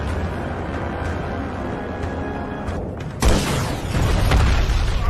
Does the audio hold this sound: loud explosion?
yes